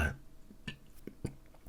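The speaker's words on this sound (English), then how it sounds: "My burping." A woman lets out a short burp, faint and close, followed by a few small throat and mouth sounds in a quiet room.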